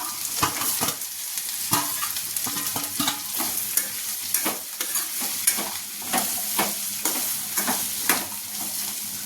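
Okra pieces frying in a pan with onions, curry leaves and turmeric, stirred with repeated sharp scraping strokes over a continuous close sizzle, no voices.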